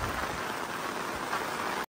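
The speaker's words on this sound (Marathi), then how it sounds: "पाऊस पण लई कडक आला एकदम जोराचा" Heavy rain pours steadily on the way up to the Valavali village waterfall in the mountains, a dense, continuous hiss of falling water with no voices, loud and close throughout before cutting off abruptly at the end.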